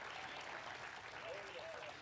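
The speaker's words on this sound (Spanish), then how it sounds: "dele fuerte ese aplauso al Señor" A church congregation applauds during a Spanish-language sermon, a faint, steady wash of clapping running under the preacher's voice throughout.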